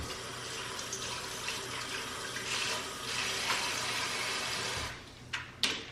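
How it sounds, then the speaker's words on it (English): A kitchen tap runs steadily as a hand slick with olive oil is washed, a close continuous splash of water into a sink with a few louder splashes near the end, no talking. "I'm gonna go ahead and wash my hand real quick"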